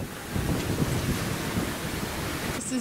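Ocean waves around a catamaran sailing off Cape York at the northern tip of Australia, with steep, standing swell, make a steady broadband wash mixed with gusting wind buffeting the microphone, loud and continuous.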